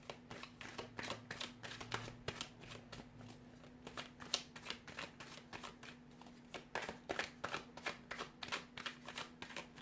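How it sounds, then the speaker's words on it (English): A deck of tarot cards is shuffled over and over in soft, rapid riffles, with bursts of crisp flicking that come in irregular clusters, close up and fairly quiet, with no talking. "So we'll give the cards a shuffle here"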